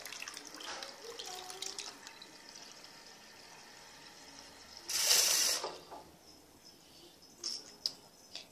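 Water from a tap runs briefly while hands are washed, a soft splashing burst after quiet handling sounds, faint and close.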